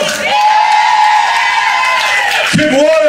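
A concert audience at a smooth jazz show in New York cheers, whoops and claps for the singer, a loud, dense wall of crowd noise that swells steadily and dips briefly near the end.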